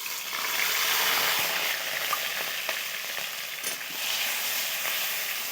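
Ginger, garlic and onion paste with chopped tomato fries in hot oil for a spicy crab dish, producing a loud, continuous sizzle and hiss with slight swells in intensity and no talking.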